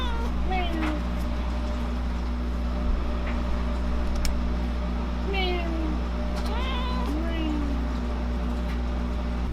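Lana, a pet cat, meows several times in drawn-out rising and falling cries inside a home studio, close and clear over a steady low hum, while someone talks to her between meows.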